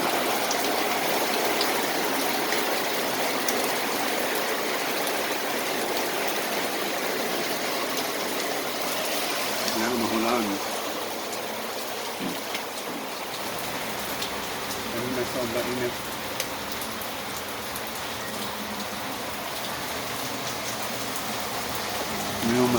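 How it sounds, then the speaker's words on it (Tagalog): Heavy rain pours steadily in a dense, hissing wash, with drops drumming on nearby surfaces and a few faint thuds and voices underneath. "Malakas na ulan."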